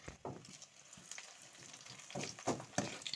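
Cardamom, bay leaves and cinnamon frying in oil in a pan, with soft sizzling and a few scraping stirs, quiet and close, no talking.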